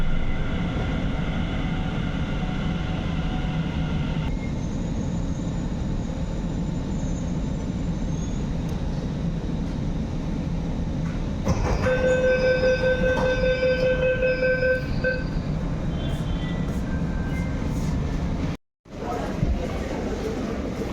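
A Delhi Metro train runs along the track with a steady rumbling roar and a rising electric whine, interrupted partway through by a short whistling tone, with faint voices from passengers inside the carriage.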